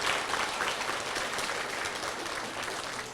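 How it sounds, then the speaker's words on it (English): Students clap at a post office opening ceremony, a steady, full wash of applause lasting a few seconds with no talking over it. "Give yourselves a round of applause."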